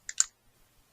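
A torque wrench gives two quick, close, light clicks while tightening bolts on a BSA Bantam B175 motorcycle engine, followed by near silence.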